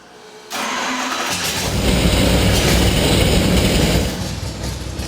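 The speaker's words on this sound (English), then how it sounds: "I'm gonna idle it down so you can hear what it sounds like." A V8 engine with a thumper cam roars to life on a dyno and settles into a loud, steady, lumpy idle, close up and running alone.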